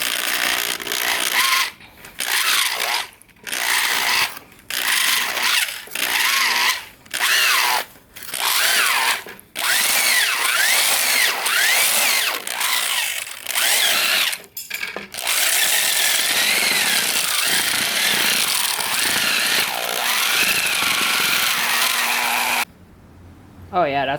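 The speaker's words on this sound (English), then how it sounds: "And this is my stirrer that I made. I just welded this up and just added some scrap metal. And it's powered by a drill." A homemade stirrer of welded scrap metal, driven by a power drill, churns green metal-casting sand made from kitty litter. The drill whirs and grinds in repeated bursts, starting and stopping, with voices in between.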